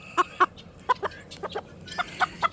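A rooster clucks in a quick series of short, sharp bursts, close and fairly loud against a quiet background.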